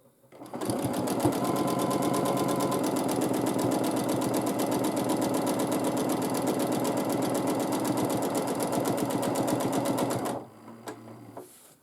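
Close, loud sewing machine stitching in the ditch on a quilt, a fast, steady mechanical needle chatter running continuously for about ten seconds, then cutting off sharply into quiet.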